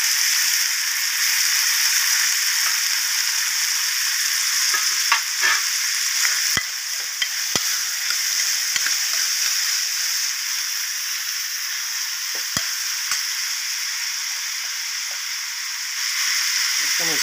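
Capsicum fries in a pan for veg kurma, giving a loud, steady sizzle broken by repeated scraping strokes of a spoon stirring against the pan.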